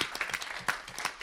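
Audience applause at the IdeaSpark PitchFest pitch event, with scattered, uneven hand claps that rise and fall in a short, fairly close burst.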